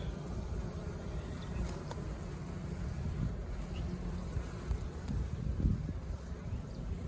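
Honeybees buzz steadily around an open hive outdoors, a dense low drone with wind-like rumble and no clear talk.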